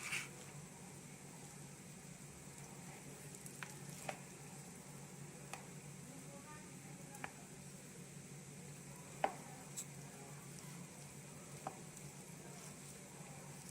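A spoon stirs lentil koshari cooked in a microwave, giving faint soft scrapes and taps at irregular intervals over a quiet steady hiss and hum of the kitchen.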